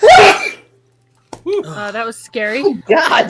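A single sharp, forceful sneeze into a face mask bursts out at the start, followed by a silent pause before people begin talking and reacting.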